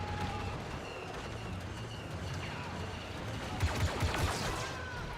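Weapon fire in Star Wars Battlefront II, a busy wash of distant blaster shots and bursts with a few louder rapid shots near the end, no speech.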